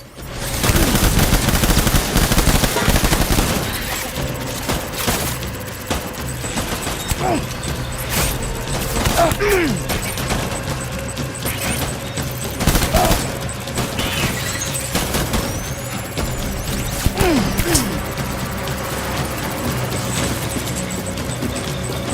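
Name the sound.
gunfire in the video game Death Stranding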